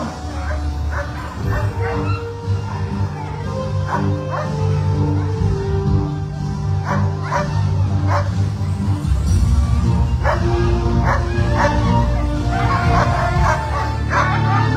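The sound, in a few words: sled dogs barking at race start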